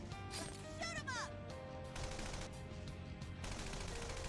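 Video game gunfire in Persona 5 Strikers: a rapid stream of shots and impacts that keeps going through the clip, mixed with music and game effects.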